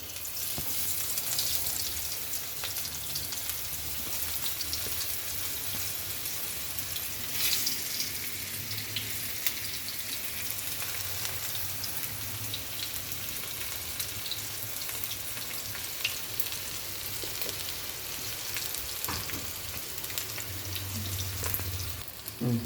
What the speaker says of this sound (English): Oil should be hot, then make it medium, and then